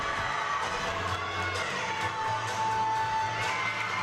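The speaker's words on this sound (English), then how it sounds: "Look at the crowd behind as well" A crowd cheers and shouts steadily through the stands at the Ivy Classic gymnastics meet, a continuous roar of voices with scattered whoops and no single voice standing out.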